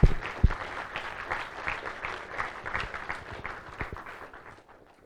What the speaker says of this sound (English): so let us applaud them.